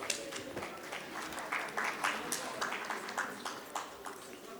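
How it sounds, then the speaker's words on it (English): A conference audience gives a round of applause for a company managing director, scattered light clapping at moderate distance with a few louder claps rising and fading over several seconds. "Can we have a round of applause for sir please?"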